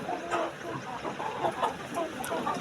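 Desi chickens cluck on a poultry farm of about 500 birds, scattered short clucks at moderate distance, fairly quiet, forming a busy flock murmur.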